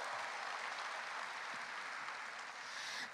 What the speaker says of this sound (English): Yes, it deserves a round of applause.